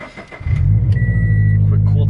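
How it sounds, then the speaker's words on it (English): Subaru BRZ sports car cold start: a brief starter crank, then the engine catches loudly and settles into a high, steady idle, close by. "quick cold start"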